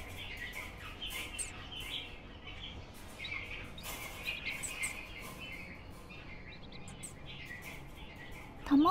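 Birds chirp and tweet continuously in the video game White Shadows, a busy, moderately faint chorus of small calls over a steady ambient bed, with no talking.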